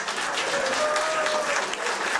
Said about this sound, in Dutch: Dames en heren, een applaus van Anna Verhoeven.